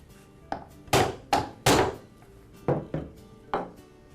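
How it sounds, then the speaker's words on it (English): A series of sharp strikes of a rubber mallet on the end of a Ryobi hedge trimmer's metal drive shaft, about nine in irregular rhythm, each a hard thud with a short ringing tail, close and loud with quiet gaps between. "To remove it, I'll strike the end of the shaft with a rubber mallet."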